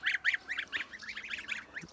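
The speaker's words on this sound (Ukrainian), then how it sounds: "Отих три гусіка." Kholmogory geese honk repeatedly in a quick, overlapping chorus, loud and close, with no other sounds around them.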